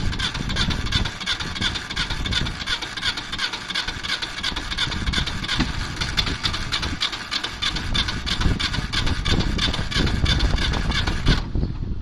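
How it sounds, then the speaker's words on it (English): A Soviet T-100 diesel engine runs with a loud, continuous mechanical roar and rough, throbbing drone that hold steady throughout before cutting off sharply near the end. "this Soviet-engineered T-100 roars again, demonstrating that classic diesel machinery stands the test of time"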